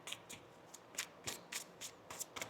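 Tarot cards are shuffled in a quiet, rapid series of about a dozen crisp papery riffles and slaps, close and soft, with no talking.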